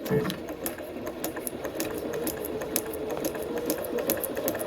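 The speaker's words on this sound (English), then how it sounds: "So let's get started, and I'm going to go slow to start." Sewing machine stitching at a slow, steady pace with no thread, working along lines on a printable paper practice sheet; a continuous rapid mechanical clatter of needle strokes, close and alone, with no voices.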